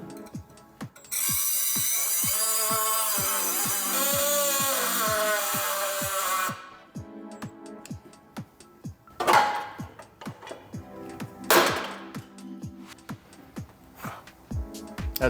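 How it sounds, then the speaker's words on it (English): A cutoff wheel grinds against the head of a bolt during custom exhaust work on a GS300, a loud steady whine for several seconds over a regular ticking rhythm, then short harsh bursts of cutting that come and go. "We have resorted to the cutoff wheel."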